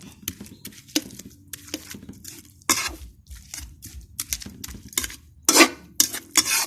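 Shrimp paste, shallots, garlic and chili being mixed by hand in a bowl, irregular close scraping and clinking knocks in uneven bursts, loud and sharp against quiet gaps.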